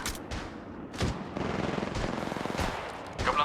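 Gunfire in the shooter game Apex Legends, dense rattling bursts and sharp shots packed together in a continuous loud barrage with no clear pauses.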